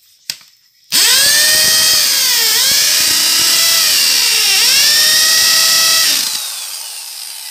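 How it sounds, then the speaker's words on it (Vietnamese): A 110 V Japanese-market hammer drill runs in hammer mode with a loud, close, steady whine lasting about five seconds, its pitch sagging and recovering twice before it winds down. "Đây là khoan búa."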